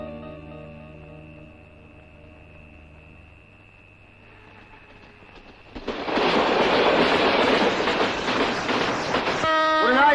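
A train pulls out of a station. A long sustained horn tone fades, then a loud rolling rumble of wagons and clattering wheels builds and carries on close by, with a brief harsh squeal at the very end.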